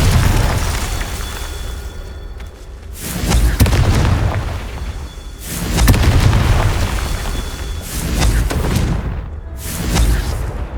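Confringo blasting spell explosions in the Hogwarts Legacy video game, a series of heavy booming blasts every couple of seconds, each with a deep rumbling tail, loud and close.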